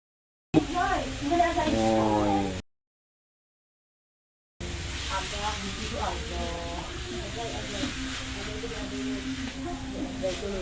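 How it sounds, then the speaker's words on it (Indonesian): Soy-sauce-coated noodles stir-fried in a wok with spices, giving a steady loud sizzle and hiss with scraping, broken by a short silent gap before the frying resumes. "Nah mie yang sudah dicampuri kecap langsung dimasuki ke dalam wajan dengan diaduk-aduk bersama bumbu."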